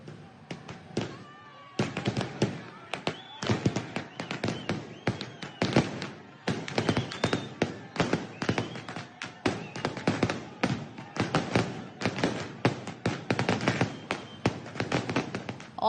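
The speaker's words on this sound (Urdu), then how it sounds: "نواز شریف کی انتخابی ریلی بلال گنج پہنچی تو کارکنان نے آتش بازی بھی کی۔" Supporters set off fireworks as Nawaz Sharif's election rally reaches Bilal Ganj: a dense, continuous barrage of sharp cracks and bangs in rapid irregular bursts, loud and fairly close, with crowd noise underneath.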